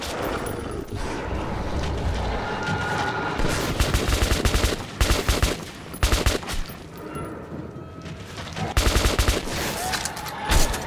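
Gunfire in the first-person shooter Metro 2033 Redux: loud, close bursts of rapid automatic shots come in clusters, separated by brief pauses, over a dense background of game noise.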